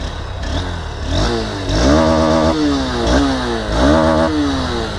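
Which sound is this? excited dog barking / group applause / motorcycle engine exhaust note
motorcycle engine exhaust note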